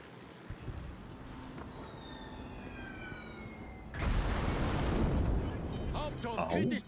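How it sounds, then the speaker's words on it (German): Artillery and gunfire firing rounds into the air in a video game, a steady rumbling barrage that swells into a louder, denser burst of blasts partway through, with sirens sweeping in the background. "Dann siehst du, wie die anfangen hier zu schießen und hier Munition in die Luft setzen"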